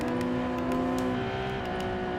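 A race car engine screams at high revs in Gran Turismo 7 played in PSVR2, a loud sustained whine holding a steady pitch, dipping slightly midway, with faint clicking ticks above it.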